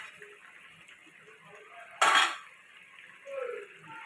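A lid lifted off a pot of simmering fish and potato curry, one sudden metallic clatter over a quiet bubbling background, then softer cooking sounds.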